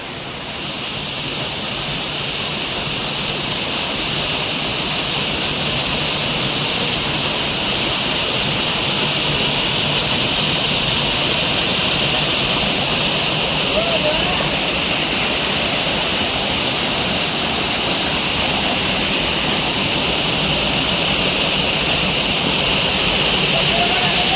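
Water pours down a big jungle waterfall as a constant heavy hiss and roar that swells slightly louder over time, with someone talking faintly under the rush.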